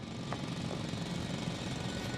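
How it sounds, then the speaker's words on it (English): A drill grinds away continuously in a sci-fi game scene from The Invincible, a loud, dense mechanical roar filling the whole stretch with no letup. "It's a drill."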